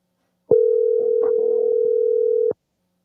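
A loud, steady dial tone on a phone line sounds for about two seconds, beginning and ending abruptly with clicks, with faint muffled noise underneath.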